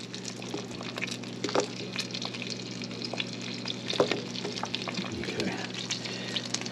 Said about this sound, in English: Our pan is getting hot, so I'm going to start by putting our potatoes in here